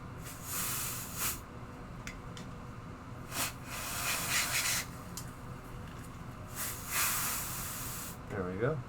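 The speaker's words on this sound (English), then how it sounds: "then let's hit a little bit of freeze spray." Freeze spray hisses onto an iPhone 8 Plus logic board in several short bursts of varying length, close and fairly loud, separated by quiet pauses.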